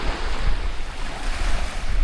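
Black Sea waves wash steadily onto the shore at Lanzheron beach in Odesa with a continuous roaring surf, mixed with gusts of wind buffeting the microphone.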